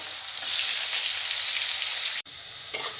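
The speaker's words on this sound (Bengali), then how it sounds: "তেল গরম হয়ে রয়েছে আর দুটো কাঁচা লঙ্কা" Two green chillies spitting and sizzling in hot oil in a pan with a chopped tomato on low gas, a steady bright hiss that cuts off abruptly, then resumes more quietly with a brief stir.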